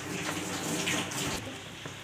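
Water pours into a pan of cooked yam (suran), a steady close splashing and gurgling stream lasting the whole stretch at moderate level.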